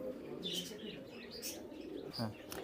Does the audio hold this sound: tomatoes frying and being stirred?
no